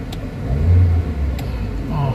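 Toyota Avanza engine, suffering low power and delayed throttle, revving up toward about 1,500 rpm with a steady low drone and mid-range rumble, heard close under a continuous workshop hum.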